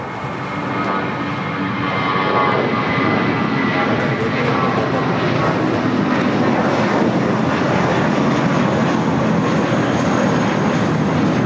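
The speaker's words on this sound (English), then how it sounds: "This is Spirit Airlines 1818 taking off to Chicago on the A320" A Spirit Airlines Airbus A320 takes off from LAX bound for Chicago, its engines holding a loud, continuous roar that builds early and then stays powerful throughout.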